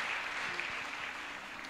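Congregation applause at a church worship service, a steady wash of many hands clapping together for under two seconds, fairly even and moderately loud with no break.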